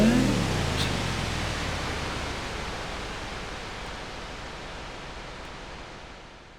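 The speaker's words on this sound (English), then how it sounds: "if you have a much larger damping, you get into what starts to sound like actual reverb noises" A smooth wash of broadband reverb noise from the Airwindows MatrixVerb plugin with large damping, swelling at the start and slowly decaying over several seconds, steady and hiss-like with no voices.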